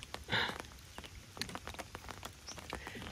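Rain falling along a river canal in Thailand, a steady soft patter of drops on surfaces with occasional sharper splashes, faint and close, no talking.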